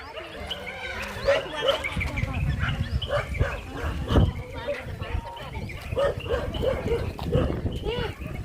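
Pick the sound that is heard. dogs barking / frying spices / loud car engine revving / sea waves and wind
dogs barking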